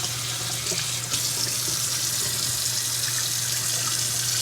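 A water hose at low pressure rinsing a K&N air filter, a steady close spray with a constant hiss and a low hum underneath, continuing evenly without talking.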